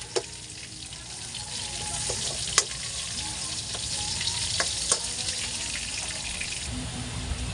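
Sliced onions added to a hot pan of browned garlic, giving a steady, close sizzle with occasional light clicks from stirring and no talking.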